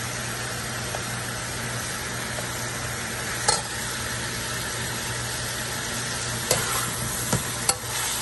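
Sweet peppers and shrimp sizzle in hot oil in a pan while pasta is being made, a steady close frying hiss with a few sharp clinks of a utensil against the pan; no talking.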